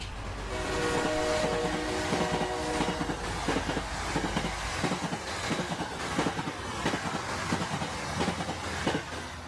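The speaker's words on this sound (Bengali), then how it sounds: "কথা বলতে বলতে একসময় ট্রেন পলাশতলী স্টেশনে পৌঁছল" A cartoon sound-effect train runs toward a station, with loud, steady clickety-clack wheel beats, a horn or whistle tone near the start and a continuous rumble, close and with no speech.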